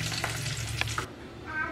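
Hot tempering with asafoetida poured into peanut chutney, a short burst of hissing sizzle that cuts off abruptly, leaving quiet kitchen background.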